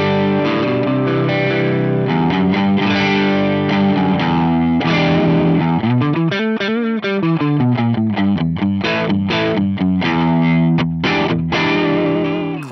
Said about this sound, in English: let's go to the drive block and add a T808 style drive in here